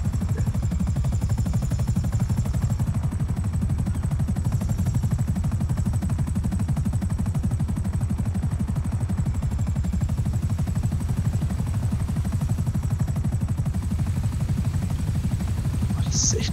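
A helicopter in the video game GTA Online flies continuously, its rotor producing a loud, steady low-pitched chop and engine drone that holds unchanged throughout with no talk over it.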